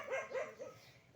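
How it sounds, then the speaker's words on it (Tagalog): A dog being harassed gives a few faint, distant barks and yelps in short uneven bursts over a low background hiss. "pasensya na yung ingay ng aso kasi inaaway yung aso"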